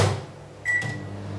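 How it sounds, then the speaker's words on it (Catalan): A microwave oven runs on full power with covered onion inside, cooking without oil for a potato omelette: a steady low hum, then a short high beep partway through, with the hum continuing afterward. "ho tindrem durant 3 minuts amb el recipient tapat al microones"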